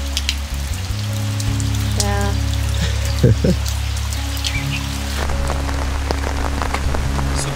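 Steady rain falling on surfaces in the Himalayan foothills near Rishikesh, a continuous hiss with a low rumble beneath it, while someone briefly speaks over it.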